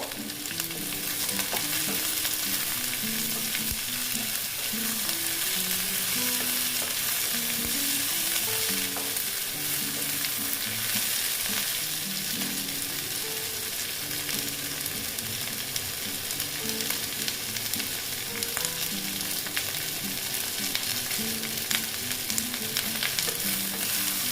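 Onion, garlic and taro stolons (kochur loti) fry steadily in a pan with a continuous dense sizzle, broken by recurring scraping and stirring clatter, close and alone without talk.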